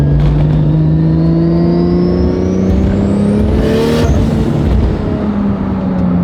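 A Ferrari engine revs hard from inside the car, a loud climbing whine that rises steadily, breaks off with a shift around the middle, then drops back to a lower drone.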